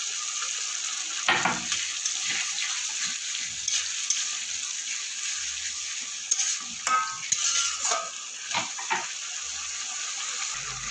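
Green chili and ginger, crushed, hit a pan of softened tomato and capsicum for chicken kosha, giving a steady sizzle with scattered stirring scrapes and a few louder clatters near the middle, with no voices.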